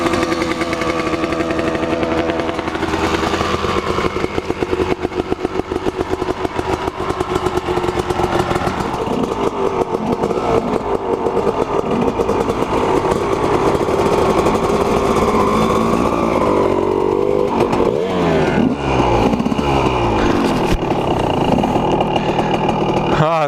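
A two-stroke motorcycle engine runs and warms up while rolling down a sandy hill, a loud, continuous buzzing drone with shifting pitch and clattery texture, close and steady throughout.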